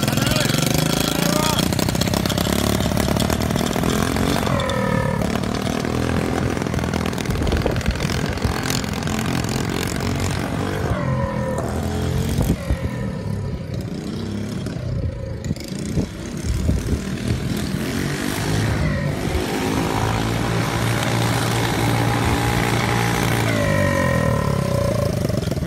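Motorcycle engine running while being ridden around a farm, a loud, constant engine drone with shifting revs, close up, with people talking over it.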